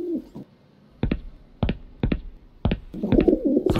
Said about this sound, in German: Tauben, Tauben, Tauben, Tauben,